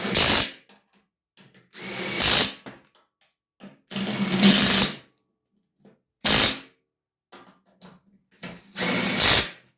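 Bursts of a ratcheting socket wrench or power driver tightening spindle bolts on a John Deere LA145 riding mower, five loud whirring runs of about a second each separated by short pauses, close by with no talking.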